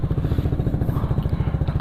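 Old Yamaha XMAX scooter fitted with a ProSpeed exhaust idling close by, a loud, even, rapid thumping putter with no break.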